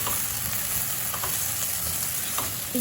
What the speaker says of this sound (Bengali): আমি আস্তে আস্তে করে এখন এই টমাটো আর বেগুন ভাজা ভাজা করে নেব